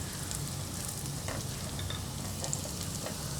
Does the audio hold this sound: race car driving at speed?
no